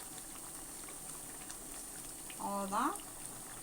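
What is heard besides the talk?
quail gravy boiling in a pan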